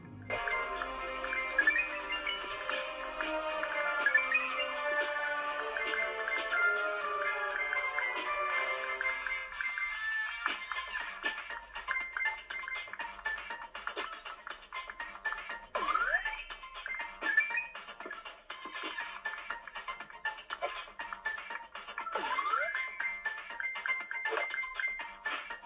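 Subway Surfers mobile game playing on a Samsung A01 Core phone: steady upbeat game music with tinkling effects and occasional rising swoosh sounds, continuous and fairly loud with no talk.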